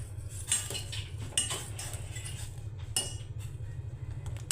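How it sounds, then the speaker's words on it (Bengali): Cardamom tea being stirred in a pot on the stove, a utensil clinking and scraping against the metal in irregular taps over a steady low burner rumble, close and moderately loud, with no talking. "চাটাকে মাঝে মাঝে একটু নেড়ে চেড়ে দেব।"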